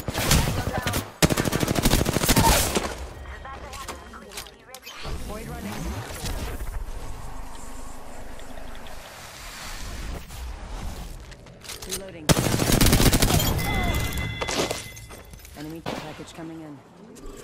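Automatic weapons fire in an Apex Legends match comes in long, loud bursts of rapid shots, with quieter gaps between them and voices speaking in between.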